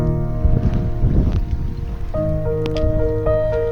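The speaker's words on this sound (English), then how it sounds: "the engine is running now again" A repaired sailboat diesel engine runs steadily after a leaking sea water pump fix, a low rumbling drone with tonal hum and splashing water texture, close and loud, no talking.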